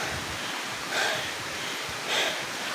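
Twin Falls waterfall in Kalayaan, Laguna gives a steady broad rush of falling water, with two brief louder surges like wind gusts over the microphone and no talk.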